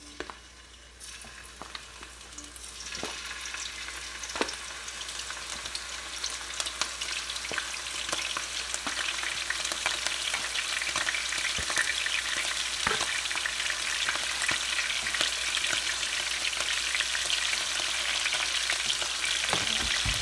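Scallops sear in a thin layer of hot oil in a pan, a quiet start swelling into a loud, steady crackling sizzle that continues without any talk.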